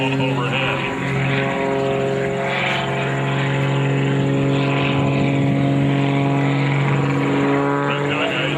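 A propeller aerobatic airplane flies a double hammerhead at the 2009 Selfridge air show, its engine droning loud and close with a steady, slightly wavering pitch throughout.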